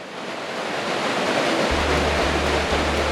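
A small river flows below stone steps at a campground, a steady broadband rush of moving water that is continuous and fairly close, with a low rumbling hum joining in partway through.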